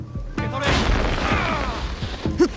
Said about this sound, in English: Perfect opportunity to call upon our ally Genojo and some of his exploding tricks.